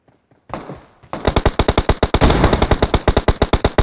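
Rapid bursts of loud automatic gunfire in the PUBG video game, a steady rattling stream of close shots following a brief lead-in.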